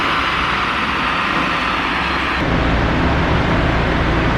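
A VW Golf Mk4 1.8T engine on stock boost, running hard under Link ECU mapping at roughly 150 hp, gives a loud, steady, close roar that shifts tone slightly partway through.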